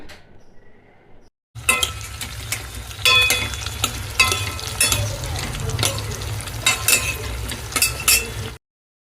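After a brief quiet start, brinjal sizzles loudly in a hot pan, with stirring scrapes and clinks of a utensil throughout, then stops abruptly.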